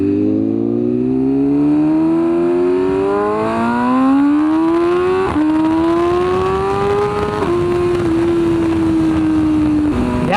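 A motorcycle with a Stage 1 tune pulls hard through the gears on a road ride, its engine note climbing steadily and dipping briefly at each shift, loud and close with constant wind.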